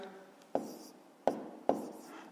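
A pen writes out a math solution, making three quiet, distinct strokes or taps on paper, with a faint low voice murmuring underneath.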